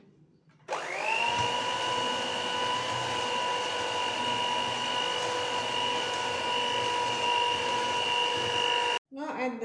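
An electric hand mixer beats butter cheesecake batter with flour mixed in, a steady close whirring hum that switches on abruptly, holds even for several seconds, then cuts off.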